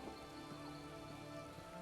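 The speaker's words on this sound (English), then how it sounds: "I could do without this damnable rain. It's been storming since we arrived, and it shows no sign of letting up." Faint, steady rain hiss from a storm in Elder Scrolls Online, set around Southpoint in Grahtwood, under a low tonal game ambience, continuous and without voices.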